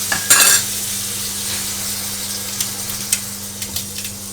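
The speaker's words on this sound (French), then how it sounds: "j'aime bien rajouter un tout petit peu de sauce de soja sur le côté pour faire griller les bords" Soy sauce hits the edges of Thai street-style fried rice in a hot pan, giving a brief loud hiss that settles into a steady sizzle, with light scraping and clinks of a utensil against the pan.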